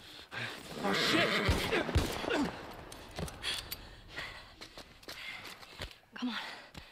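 A horse neighs and snorts in the video game The Last of Us Remastered, loud and close, with breathy whinnies, some hoof clatter and brief voices around it.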